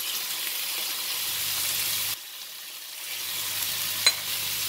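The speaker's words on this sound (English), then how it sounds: "now put in all the spices" Spices hit frying pork belly in a pan, giving a close, steady sizzle that briefly cuts out and returns, with a small clink near the end.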